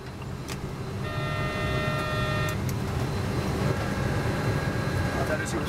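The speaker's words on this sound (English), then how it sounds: "That is the traffic." Road traffic noise from a busy street, with a steady engine rumble and a long car horn note lasting about a second and a half, then a second fainter horn, close and fairly loud.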